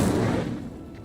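Incendio fire spell cast in the video game Hogwarts Legacy, a loud rushing burst of flame that fades out over about a second, with no talk.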